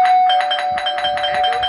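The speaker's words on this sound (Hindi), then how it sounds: "That stupid bell again." A loud electronic bell rings repeatedly in the video game Scary Teacher 3D, a fast pulsing ring with a sustained bright tone underneath and faint game noises beneath it.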